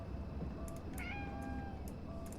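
A cat in the horror game Conarium lets out a couple of short, clear meows over a low steady ambient hum.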